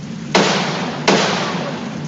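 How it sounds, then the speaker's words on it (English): A Winchester rifle fires twice in an outdoor standoff between trees, each shot a sharp, loud crack followed by a long decaying echo, spaced about three quarters of a second apart. "He leads it with his Winchester and then fires twice."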